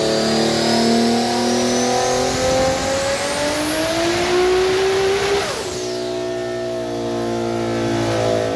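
Toyota Supra with a built 3.0 liter engine revs hard and loud, pitch climbing steadily then dropping sharply before settling into a steady roar, close and alone without talk.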